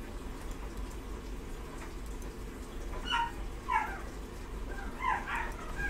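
Several dogs, one of them a puppy, give a few short whimpers and yips in the background of a Call of Duty Advanced Warfare session, spaced over a steady hum.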